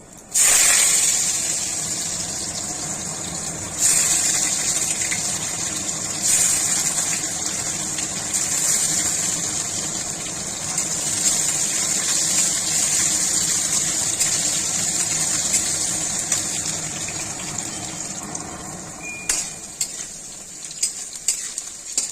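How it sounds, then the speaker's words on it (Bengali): Cut, washed potatoes go into a hot pan with panch phoron while cooking a spice-free mixed vegetable labra, then sizzle and fry steadily with occasional stirring scrapes, loud and close with no talking. "এখন দিয়ে দিচ্ছি কেটে ধুয়ে রাখা আলু।"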